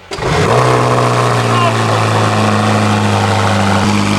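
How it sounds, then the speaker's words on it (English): A supercar engine cold-starts, cranking and catching with a loud burst, then settles into a steady, rumbling high idle. "Cold start on this thing is pretty rad"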